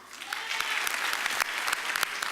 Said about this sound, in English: Give them a round of applause for volunteering